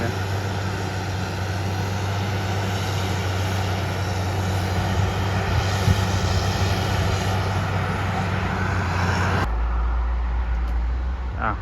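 A Caterpillar 140 motor grader's diesel engine drones loudly and steadily on a lane-widening road job, a continuous heavy rumble that shifts to a deeper, muffled tone near the end.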